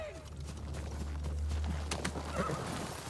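Horses in the Ghost of Tsushima video game neigh in a loud whinny while hooves clip-clop nearby, with a few sharp hoof strikes amid a low rumble and faint voices in the background.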